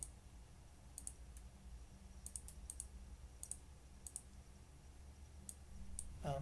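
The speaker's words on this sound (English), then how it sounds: "as I click on the patient's name, this box right here, it gives me more information" A computer mouse clicks repeatedly at an uneven pace, each click soft, close and isolated against a quiet room hum.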